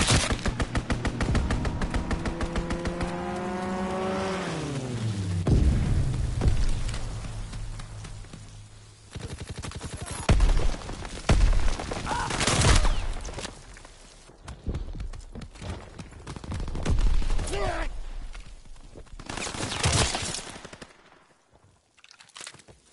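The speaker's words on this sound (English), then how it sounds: "Strafing run inbound." A strafing run in a PS4 shooter: a long stretch of rapid machine-gun fire with a descending pitched whine, then scattered heavy bursts and impacts, loud and close before fading out.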